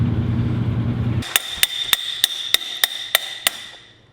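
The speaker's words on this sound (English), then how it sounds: "Crescent wrenches are also hammers, if you didn't know." A crescent wrench used as a hammer strikes metal in a garage while a totaled Harley is rebuilt: eight sharp, evenly spaced ringing clanks that follow a low rumble which cuts off at the start.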